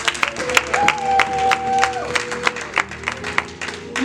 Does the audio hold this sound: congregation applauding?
yes